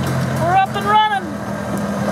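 A golf cart engine runs at a steady, even idle after being revived, a low constant hum with a voice speaking briefly over it.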